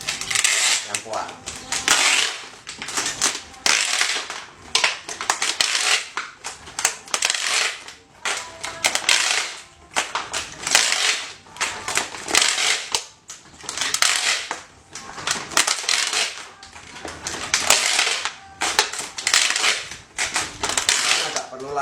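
Packing tape is pulled hard off the roll and wrapped around bundled plastic bottles for a homemade chair and table, giving loud, close, crackling rips in repeated bursts with brief pauses between pulls.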